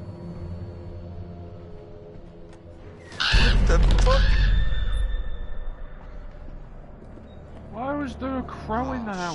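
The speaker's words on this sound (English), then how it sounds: "Crow in the house." A crow cawing in the horror video game Until Dawn, a sudden loud harsh burst of cawing and fluttering over background ambience, followed by a series of rising calls and someone speaking.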